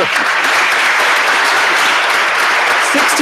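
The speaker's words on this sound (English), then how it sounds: "Let's give him another round of applause." Applause fills a township committee meeting room, a dense, steady crowd clapping that stays loud and close for a few seconds.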